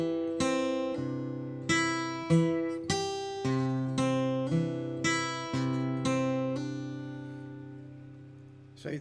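Guitar playing the first two measures of a blues practice exercise, a series of about eight clear plucked notes and chords ringing out in a steady rhythm, close and alone without talk.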